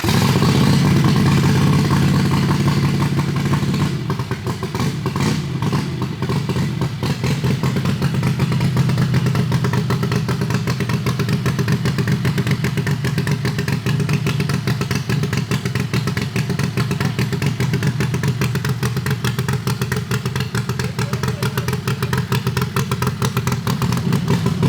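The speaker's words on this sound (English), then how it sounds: "At this point, we're just going to fire it up, recheck the oil, and maybe do a test pass." A Harbor Freight V-twin engine on a drag racing dragster runs steadily and loudly at close range, a rough continuous rumble that shifts slightly near the start and then holds a constant idle.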